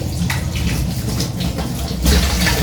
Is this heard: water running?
yes